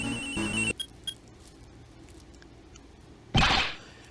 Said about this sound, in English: That sound. That's her cell phone.